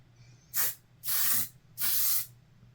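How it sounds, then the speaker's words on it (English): Three hissing bursts of aerosol makeup setting spray, each lasting about half a second with short pauses between, close and fairly loud against a quiet background. "This is in one of those nice little aerosol cans."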